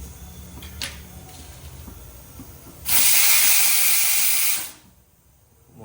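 A pressure cooker cooking onion, tomato and capsicum for pav bhaji in a home kitchen lets off a loud, steady hiss of steam for about two seconds before cutting off, set against quiet kitchen background.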